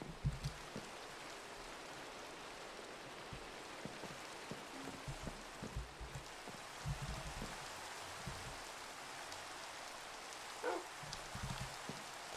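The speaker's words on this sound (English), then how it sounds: "If only this rain would go away." Steady rain falls across a video game world in ZAWA Survival, a dense even hiss of drops with occasional heavier patters, soft and continuous with no voices.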